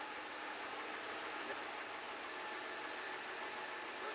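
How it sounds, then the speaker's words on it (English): The exhaust of a 2001 Ford E250 van idles smoothly and steadily after its misfiring spark plug coil packs were replaced. It gives a faint, even hum with no popping and no talk. "that's what it should sound like back there at your exhaust"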